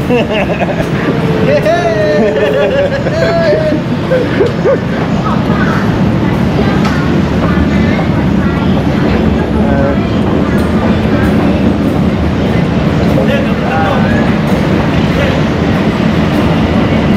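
A Skytrain pulls into an elevated station in Bangkok with a continuous loud rumble and whine, while voices and crowd chatter carry on over it.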